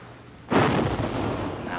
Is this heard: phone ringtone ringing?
no